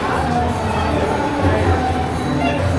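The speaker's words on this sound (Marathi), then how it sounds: "आज गर्दी पण आहे" A crowd murmurs at the Palasdari Swami Samarth temple, a dense, steady mass of voices and bustle filling the space up close, with a few scattered shouts rising above the general din.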